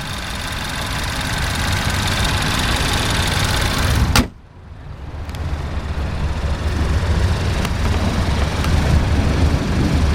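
The 2.4 liter inline-4 of a 2013 Chevrolet Malibu Eco runs with a steady, close rumble, briefly drops away, then returns to an even, droning idle.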